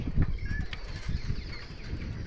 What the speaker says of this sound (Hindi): आप सुन सकते होंगे पक्षियों की आवाज़।